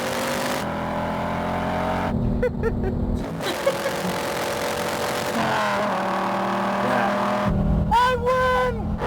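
Dodge Viper V10, around 8 litres, roaring hard off the line in a drag race against a Shelby Cobra, a loud sustained engine drone with gear-change breaks, and voices talking over it.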